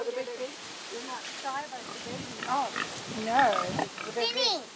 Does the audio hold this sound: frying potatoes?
no